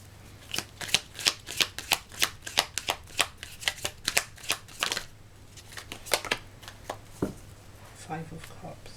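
A tarot deck being shuffled by hand, a rapid run of crisp riffling card flutters repeating for about five seconds, followed by a few softer card handling sounds, close and clear.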